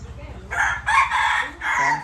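A Burmese gamecock crows nearby, one loud, drawn-out call broken into several strained segments.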